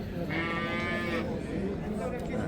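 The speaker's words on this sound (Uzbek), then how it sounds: "Mana bolali sigirlardan." Cattle at a livestock market in Nurobod, Samarkand, with cows and their calves; a drawn-out moo rises over constant crowd noise and nearby voices, then fades back into the busy market din.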